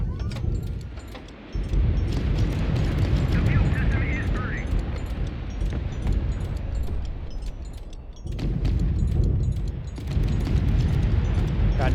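Rockets and bombs explode in a video game against a squadron of eight aircraft, a dense rumbling barrage of booms with brief lulls and a steady rapid ticking of gunfire on top.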